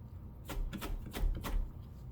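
A knife roughly chopping vegetables on a cutting board, around five quick, close taps in an uneven rhythm over a faint background hum.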